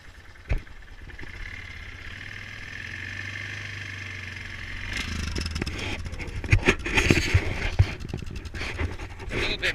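A 2004 Yamaha Kodiak 450 ATV in snow starts cold without choke, then settles into a low, steady idle rumble that grows rougher and busier toward the end, with scattered handling knocks nearby.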